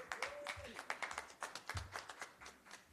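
Scattered clapping from an audience at a #MeToo press conference, a handful of hands patting unevenly and fairly faintly for a few seconds, with no one speaking.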